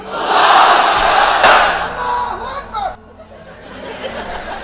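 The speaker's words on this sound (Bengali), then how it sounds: "এবার সবাই মিলে তিনটা তাকবীর পড়েন একসাথে আওয়াজ করে" A large crowd at an open-air religious gathering shouts takbir together in loud, sustained unison, swelling and then dropping off near the end before a quieter murmur resumes.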